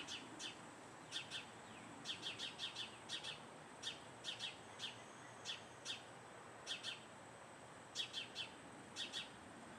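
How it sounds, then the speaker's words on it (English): Sparrows chirp in short repeated bursts, high and fairly faint, scattered across a quiet outdoor background with a steady low hiss. "listen to the sparrows"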